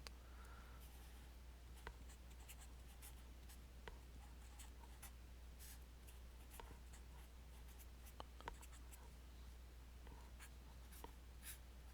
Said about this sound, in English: So I'm going to write this down for you guys